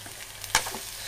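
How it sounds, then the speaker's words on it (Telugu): Pasta being stirred in a pan at home, giving one brief scraping clatter in the middle amid a faint low sizzle, with no talking. "ఇంకా కలపాలి, బట్ నేను ఒక హ్యాండ్తో కలపలేను, కలిపి చూపిస్తాను."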